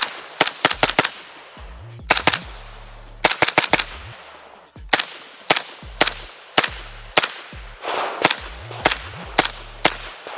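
A Galil rifle fires through a 7.62 titanium suppressor at an outdoor range in quick clusters of sharp shots, with short bursts repeating over several seconds and brief pauses between groups.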